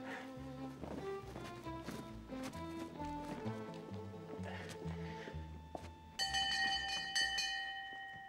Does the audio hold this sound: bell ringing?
yes